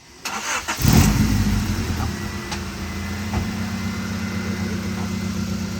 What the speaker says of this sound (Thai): จะฟังเสียงเครื่องยนต์จากข้างนอกก่อนนะครับ ลองสตาร์ทให้ฟังนะครับ